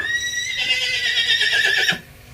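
A young panchkalyan horse whinnies loudly and close by, one long, high, quavering neigh that breaks off abruptly near the end.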